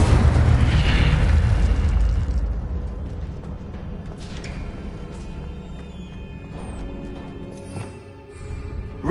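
An Incendio fire spell blasting in Hogwarts Legacy, a loud booming burst of flame that fades into a crackling, hissing tail with faint magical chimes, with no voices.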